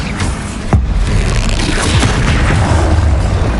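A Bombarda spell explosion in Hogwarts Legacy, a heavy booming blast with a sharp impact near the start, followed by a continuous loud rumbling wash of magical combat noise.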